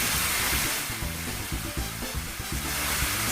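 Taco meat filling simmering in a pan on low heat for pan-fried Mexican tacos, giving a steady, fairly quiet sizzling bubble that runs continuously with small pops throughout.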